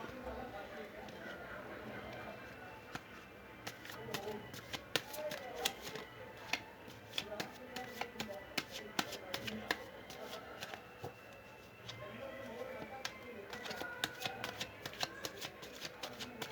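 Tarot cards shuffled and drawn, a busy run of quick crisp flicks and taps with short pauses, faint and close, with soft talk mixed in at times.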